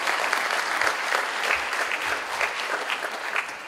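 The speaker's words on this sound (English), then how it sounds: "Let's give them a round of applause." Graduation audience applauding the parents, a steady dense wash of clapping from a crowd throughout, loud and sustained with no talk over it.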